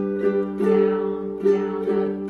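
Ukulele strummed in a down, down, up pattern, with three ringing chord strokes that swell and decay, close and alone with no talk.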